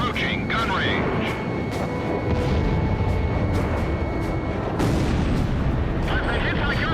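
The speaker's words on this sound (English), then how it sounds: "I've been hit by gunfire." Rapid gunfire and explosions in the Ace Combat Zero air-combat video game, with jet engine roar and cockpit radio chatter running through, dense and continuous.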